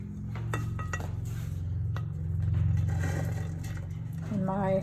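Ground dog food made from heart and other ingredients, about 2 pounds, being mixed in a very large pan, giving scraping and clinking metal-pan sounds over a steady low hum, with a brief voice near the end.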